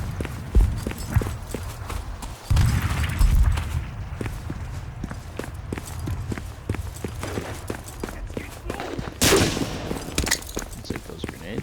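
Rapid bursts of rifle and machine-gun fire crack through a World War II shooter game, with sharp repeated shots scattered across the scene and a few heavier volleys standing out.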